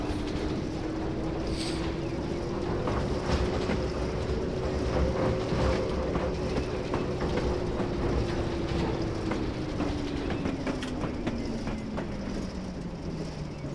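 A Class 08 diesel shunter locomotive in Train Simulator 2019, working the Falmouth branch, runs with a steady engine drone and a slowly rising then falling tone, continuous and close, with faint clanks.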